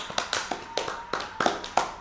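A small group clapping on a podcast, sharp separate claps in an uneven rhythm, close and fairly crisp, with no talking over them.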